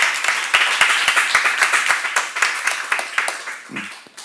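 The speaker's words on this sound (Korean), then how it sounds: "박수 한번 쳐봐" A church seminar audience clapping together in a steady rhythmic beat, sharp repeated claps close and lively, loosening toward the end with a brief voice underneath.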